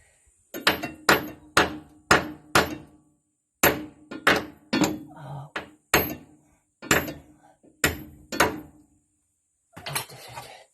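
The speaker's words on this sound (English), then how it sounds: "with a no-name brand hammer" A no-name brand hammer strikes metal on a car's left-side MacPherson strut and shock absorber, a dozen sharp, ringing blows in a steady rhythm with brief pauses between them.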